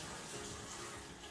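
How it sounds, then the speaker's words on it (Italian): Water runs steadily from a tap while a Maltese dog is bathed, a close, continuous hiss of flowing water with no speech. "allora iniziamo con l'acqua, non troppo calda né troppo fredda, una via de mezzo, vero Daisy?"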